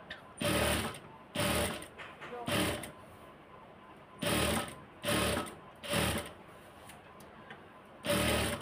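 A sewing machine stitches a salwar in short, loud mechanical bursts, each run of rapid clatter separated by brief pauses, close up with no talk.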